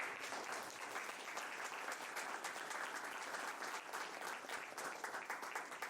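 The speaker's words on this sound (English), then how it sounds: "Big round of applause." A big round of audience applause closing a brand talk, continuous and even, filling the whole stretch without voices on top.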